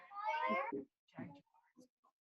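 A cat meows several times nearby: one long, drawn-out harmonic cry followed by a few shorter, fainter calls with brief gaps between them.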